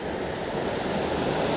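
Rushing water from a waterfall roars as a steady, dense wash of broadband noise, close and continuous with no voices.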